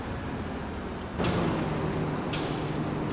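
A farm vehicle brakes in Farming Simulator 22, a steady engine rumble broken by two sharp hissing bursts of released air pressure, one after the other.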